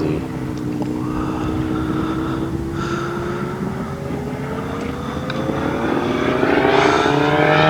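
The engine of a giant scale RC F8F Bearcat model airplane drones loudly nearby, its pitch gliding steadily upward as the throttle opens and the roar swells toward the end.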